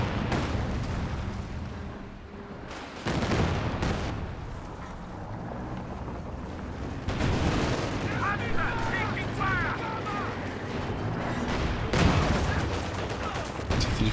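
A T-34-85 tank fires in a Company of Heroes 2 match, its repeated booming shots and battle noise rumbling steadily under continuous commentary, with busier gunfire midway and a louder burst near the end.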